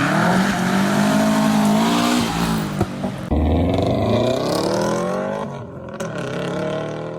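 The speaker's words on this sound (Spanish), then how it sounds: "ese sonido retumbante, profundo e irregular que los puristas bautizaron como el Subie Rumble" Deep, uneven exhaust rumble of a Subaru STI boxer engine, loud and close, rising and falling as the car revs and accelerates, with brief tire squeal, continuous with no talking.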